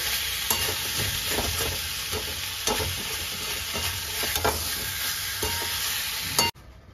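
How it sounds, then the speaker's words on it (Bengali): Fried young jackfruit is stirred into spice masala in a sizzling pan, a steady loud frying hiss with repeated soft scraping strokes of a spatula, ending abruptly in silence. "এঁচোড়গুলোকে মশলার সাথে ভালোভাবে মিশিয়ে নিচ্ছি"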